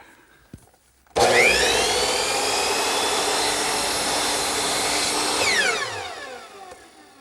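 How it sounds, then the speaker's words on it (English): A powered miter saw swung to 45 degrees slices through a length of wood molding for a colonial fireplace mantel, a single loud sustained cut that starts abruptly, holds steady for several seconds, then winds down as the blade spins to a stop. "swing the miter saw to 45 degrees, and make a cut"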